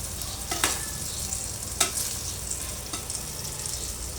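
Eggplant slices fry in a pan with a steady soft sizzle, broken by a few sharp scraping stirs of a utensil against the pan, close and alone without speech.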